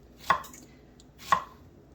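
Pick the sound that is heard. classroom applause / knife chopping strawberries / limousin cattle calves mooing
knife chopping strawberries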